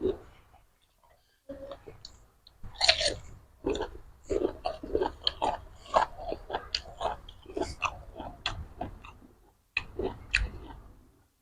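Someone eating som tam papaya salad with boiled eggs, fried chicken and sweet bamboo shoots, wet close-up chewing and biting sounds in an irregular rhythm, with brief quiet gaps.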